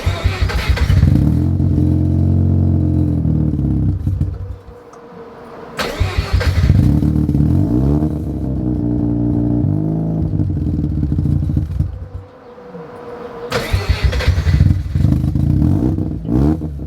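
A Mazda RX-7 rotary engine cranks and fires up close by, then revs in loud, rough bursts with clattery idle dips between, three surging rev sequences over the clip.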